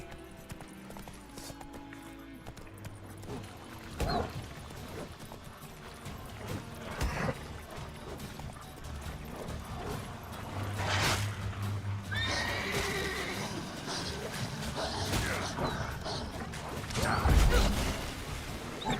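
A horse in The Witcher 3 clip-clops along and whinnies several times, with creaks and mechanical game sounds around it and a few short bursts of louder activity.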